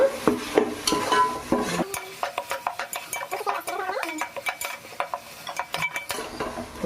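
Green chillies and curry leaves cooking in a pan for Nellore-style fish pulusu, with clinks of a spoon stirring against the pan and a low sizzle running underneath, close and fairly loud.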